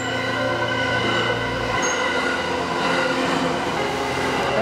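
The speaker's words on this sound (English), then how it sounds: "How long is this train?" A train in Japan rumbles steadily past close by, with a constant roar of wheels on rails and high metallic squealing tones, no voices.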